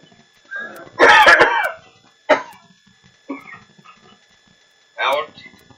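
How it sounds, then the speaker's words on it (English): A person's throat-clearing allergy cough, several loud harsh bursts in a row, followed by a few shorter coughs and clearing sounds spaced over a few seconds, close to the mic. "Allergy cough."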